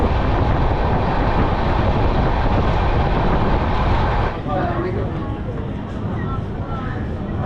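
Tamralipta Express train standing at Mecheda station, a loud steady rumble of engine and carriage noise that drops slightly partway through, with faint voices underneath.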